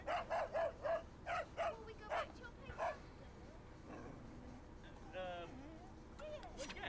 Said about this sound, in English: That dog is annoying.